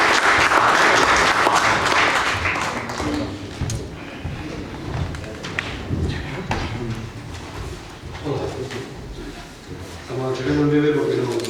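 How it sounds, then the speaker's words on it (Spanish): Applause from the audience at a poetry forum in a casino hall, a loud burst of clapping at the start that thins out under talking, then swells again near the end. "¿Me pueden aplaudir mientras yo diga?"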